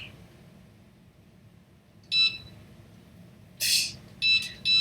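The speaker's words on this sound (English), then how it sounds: "Beeping was really loud." Loud electronic beeping from Silent Hill 2, quiet ambience, then a burst near 2.2 seconds, a louder harsh blast around 3.7 seconds, and two more short beeps near the end.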